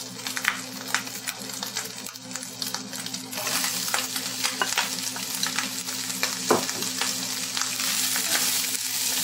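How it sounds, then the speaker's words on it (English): Onions and crisp bacon fry together in a pan, a steady close sizzle with occasional stirring scrapes and clinks, alone without talk. "Fry the onions with the bacon until they're golden brown."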